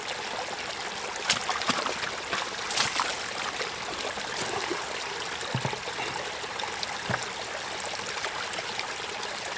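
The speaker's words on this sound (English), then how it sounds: "Now lots of water should be filtering through the bucket." Stream water pours and trickles through a bucket at a microhydro turbine site, a steady close gurgling rush with splashes that runs continuously and unaccompanied by speech.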